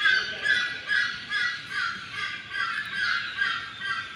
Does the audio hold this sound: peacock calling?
yes